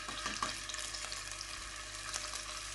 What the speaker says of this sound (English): Just add them in and just allow them to sizzle.